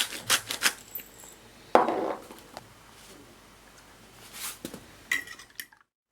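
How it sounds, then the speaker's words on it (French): A whisk clinks and scrapes against a bowl in sparse, uneven strokes while a vegetable flan mixture of fromage blanc or whole milk is mixed with salt and pepper. The strokes are close and moderately loud, with brief pauses between them, and no talking. "Alors là, on mélange comme il faut."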